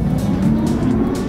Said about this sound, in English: with this car, you can set virtual driving sounds too to increase driving fun